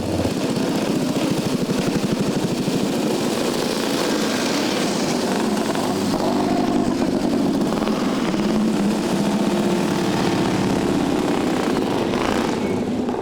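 Vintage motorcycles, the oldest dating from 1908, race at the Circuito del Te in Mantova, their engines making a continuous loud roar that swells and fades as machines pass nearby.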